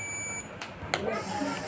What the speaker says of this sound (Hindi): मेरे को चाहिए एक मल्टीमीटर को बीप मोड या बजर मोड में सेट करेंगे